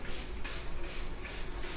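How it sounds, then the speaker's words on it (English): A spray bottle misting a Chebe powder spritz onto hair during a deep-conditioning routine, a few quick soft hissing bursts in a steady rhythm, close and quiet with no talking. "I'm going to spray my hair with my Chebe powder"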